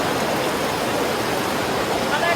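Heavy rain pours down in Itahari, a loud, unbroken wash of hiss and spatter that holds steady with no letup.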